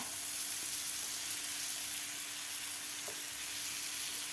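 Buttered bread for an Iyengar bakery style masala toast sizzles steadily on a hot pan, a close, continuous frying hiss with a faint tap or two and no talking.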